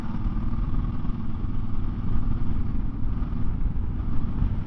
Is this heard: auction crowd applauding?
no